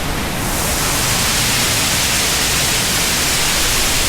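A loud waterfall captured by an Insta360 X5 camera, a steady, roaring wash of close, full-band noise with no breaks, overwhelming everything else.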